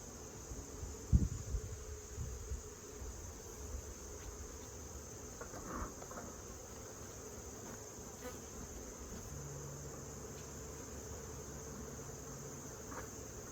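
Honey bees swarm around an opened, agitated hive, a continuous insect buzz hanging over the scene with a sharp knock near the start and a few faint clatters of handling.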